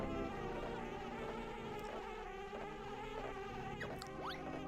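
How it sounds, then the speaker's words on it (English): Cartoon bees buzz around a honeycomb hive in the Banjo-Kazooie video game: a continuous insect drone layered over tonal background game music, with a couple of quick rising sweeps near the end. "Seems this honeycomb hive has bees around it."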